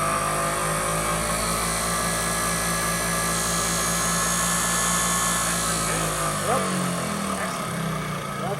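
A vintage Bosch distributor spins at about 6,000 RPM on a test setup, a loud steady high mechanical whine and whir that drops in pitch toward the end.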